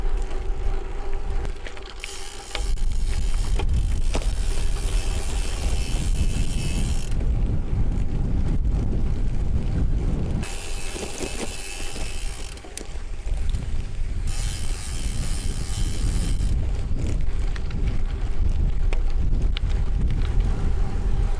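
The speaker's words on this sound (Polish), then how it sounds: "ale wieje" Strong wind roars steadily across the microphone on a gravel bike ride near Lublin, Poland, buffeting and rumbling throughout with brief dips in intensity and no voices.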